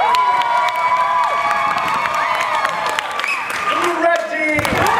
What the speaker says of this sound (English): Applaud for both. But louder for the team that you want to see get the next 5 points.